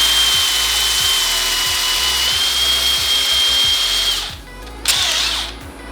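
A wood lathe spins a turned wooden bowl as it is sanded, giving a loud, steady motor whine with a faint rubbing hiss before the machine cuts off and winds down near the end.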